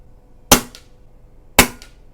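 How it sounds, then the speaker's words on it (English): A Pinty BullPup air rifle fires two shots at a target 50 yards away, each a sharp, loud crack with a brief echo, about a second apart against near silence. "I'm gonna shoot at the bottom dot"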